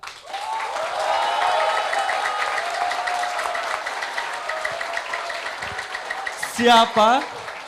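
Studio audience at a televised debate talk show applauding steadily for several seconds, with a whistling or ringing tone over it and a short loud electronic sting near the end.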